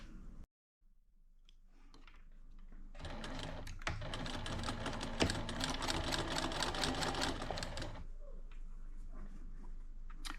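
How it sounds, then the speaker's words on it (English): A sewing machine stitches seams on a Thanksgiving table runner. After a brief pause it starts up into a fast, close, steady rattle of needle strokes lasting several seconds, then slows and stops. "let me go over to the sewing machine and do all that"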